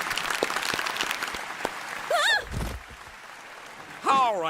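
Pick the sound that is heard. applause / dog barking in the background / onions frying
applause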